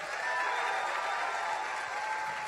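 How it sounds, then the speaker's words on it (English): Crowd at a political rally in Atlanta giving a round of applause for military members in the room, a steady, fairly distant wash of clapping with a faint tonal hum beneath. "Let's give another round of applause for the military in the room."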